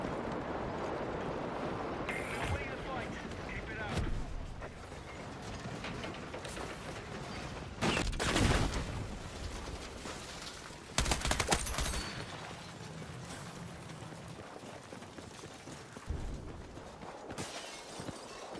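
Battlefield 6 gunfire in a match: dense rattling automatic bursts and mechanical clatter come in waves with sharp loud peaks, near and busy, under a constant game backdrop.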